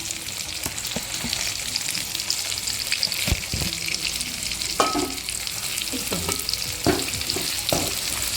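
Onion sautéing in a pan with cumin, black pepper and poppy seeds, sizzling steadily up close while a spatula scrapes and clinks against the pan in irregular strokes, with no speech.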